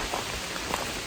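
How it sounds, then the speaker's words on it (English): Sudden rain shower on a sunny stretch of the Appalachian Trail in Massachusetts, a brief soft hiss of drops pattering steadily on surfaces, quiet and alone. "all of a sudden it just started raining out of nowhere"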